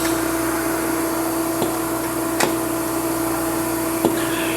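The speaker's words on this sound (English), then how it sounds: "our pusher just pushed out our theoretical piece, and then the feeder went ahead and fed in a new part theoretically" A Royal Master TG12X4 centerless grinder hums steadily while its pusher ejects a part and the feeder loads a new one, producing a few sharp, close clicks over the constant machine drone.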